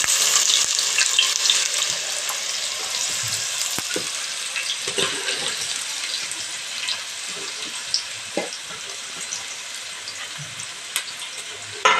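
Onions hitting hot oil in a pan while making methi and dried bombil bhaji, a bright continuous hiss with scattered clatters and scraping, no talk.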